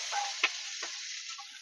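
Boiled potatoes fry in oil in a wok, giving a faint, thin hiss broken by a few soft taps and clicks, quiet and with no voices.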